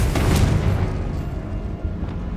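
A Confringo explosive spell bursts in Hogwarts Legacy, a loud booming blast right at the start whose rumble trails off over a couple of seconds.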